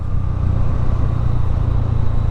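A Honda Hornet 125 motorcycle cruises along a road with a steady, loud low engine drone and wind rush, no speech.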